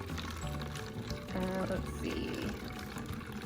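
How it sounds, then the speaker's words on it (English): Vinegar pours from a container into a plastic water bottle during a children's balloon science experiment, a steady liquid trickle running under a person's talking. "We'll pour some vinegar in there."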